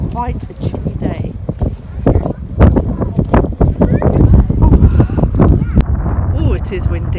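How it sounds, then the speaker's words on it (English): Strong gusty wind buffeting the microphone on a chilly, open walk toward Stonehenge, rumbling loudly and continuously while a person talks over it. "Oh, it is windy."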